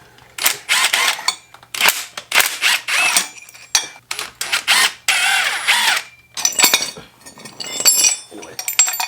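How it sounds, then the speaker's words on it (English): Bolts being undone on a Mitsubishi Galant during a stage 3 clutch install, with metallic clinks, ratchet-like bursts and tool clatter coming in irregular close clusters, loud and uneven. "So like I said, I'm just gonna take these bolts off."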